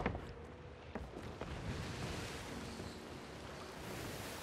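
Waves washing in a video game, a steady broadband surf wash with some wind, moderately quiet and continuous with no voices.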